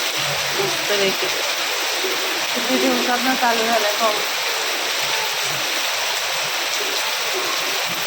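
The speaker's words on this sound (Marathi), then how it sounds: "जोरदार पाऊस सुरू झाला" Heavy rain pours down in a steady, dense wash of noise that fills the whole clip, with a voice speaking briefly over it near the middle.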